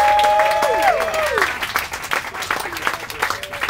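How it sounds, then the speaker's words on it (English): A studio audience applauds the crew of the TV comedy "10 Items or Less" with steady, dense clapping throughout, while a few voices and whistle-like cries rise over it near the start. "So let's give them all a round of applause."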